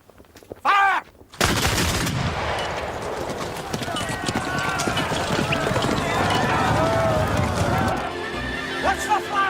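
A musket volley in a period war drama, with a sharp loud burst followed by a long rumbling wash of battle noise, horses and shouting voices.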